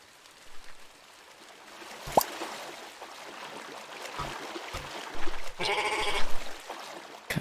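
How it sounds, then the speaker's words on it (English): Sheep bleat in the Minetest MineClone video game: a short sharp bleat, then a longer wavering one, over a steady soft ambient hiss with a few clicks. "Yeah, there were sheep over here,"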